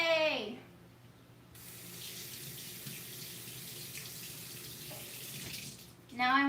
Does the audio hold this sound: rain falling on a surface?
no